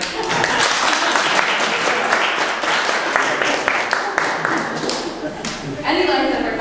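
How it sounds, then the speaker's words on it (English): A crowd applauding steadily and loudly throughout, dense clapping that swells slightly near the end. "Let's give Dan a round of applause."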